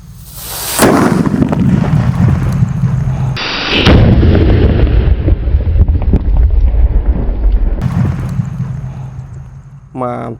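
Paper-wrapped firecrackers for New Year 2026 go off in several loud, close booming blasts with rumbling tails between them, and a voice talks through part of it.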